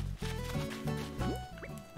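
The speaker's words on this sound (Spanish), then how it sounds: "Vamos a hacer la fuente de jardín esta" A garden fountain in the video game Animal Crossing New Horizons gives off close, bubbly trickling and dripping water sounds over a steady background of game music, with no voices.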